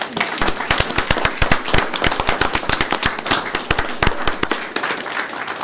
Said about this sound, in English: I think that they all deserve another round of applause